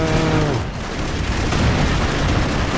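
Explosions and gunfire from the video game BroForce produce a loud, continuous, dense barrage of booms and crackling shots, with no gaps between blasts.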